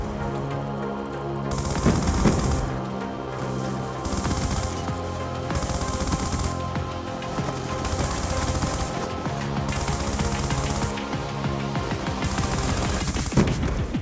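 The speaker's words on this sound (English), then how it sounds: "I wanna test the rapid fire attachment to see if the weapon becomes better with it" An LSAT light machine gun fitted with a rapid fire attachment fires in a video game, sustained loud close bursts rattling almost continuously over background game music.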